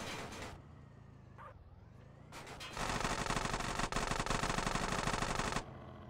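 Rapid, continuous bursts of machine pistol fire from GTA San Andreas, loud and sustained for several seconds after a brief lull, with short scattered shots earlier.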